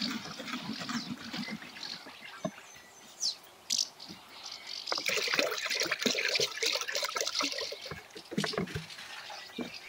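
Liquid fertilizer for garlic pours and splashes into a container of water in uneven gurgling bursts, close and fairly quiet, with faint bird calls outdoors in the background.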